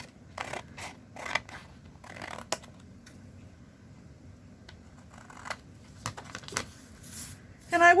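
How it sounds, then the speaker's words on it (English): Scissors snip a small piece off a paper tag used as a template; several short, crisp cuts and rustles sound close by in bursts, separated by quiet pauses, with no speech. "I'm going to take and just cut this little bit off."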